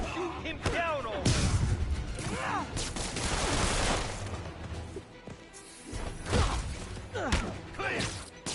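Gunfire and impacts in a PS4 video game, with repeated sharp bursts, crashes and whooshes over loud game action, with shouting voices in between.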